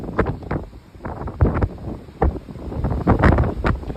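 Strong wind buffets the deck of the Royal Caribbean cruise ship Odyssey of the Seas at sea, with loud irregular gusts roaring and rumbling close by, no voices.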